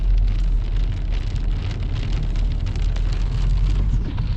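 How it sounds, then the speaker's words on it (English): Heavy snow mixed with hail falls at Kirkstone Pass, making a dense, steady hiss and patter that stays loud and even throughout, with no voices. "That's heavy snow and hail, mainly snow."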